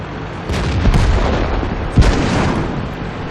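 Artillery fire and shell explosions during a World of Tanks battle, heavy booms landing close with dense rumbling, two sharp impacts standing out over constant battlefield noise.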